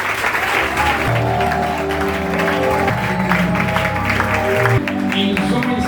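A church congregation claps together during a Sunday service while music with sustained organ-like tones plays underneath, the applause dense and continuous for several seconds.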